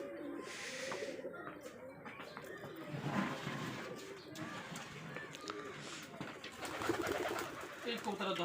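Rajshahi Giribaz pigeons coo in low, repeated murmurs alongside faint chirps and rustling, while people talk nearby.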